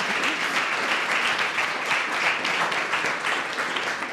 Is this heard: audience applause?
yes